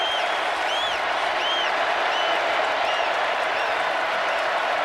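Dense stadium crowd roaring and cheering steadily at LSU's game at Alabama, a loud, continuous wash of voices with whistles rising above it throughout.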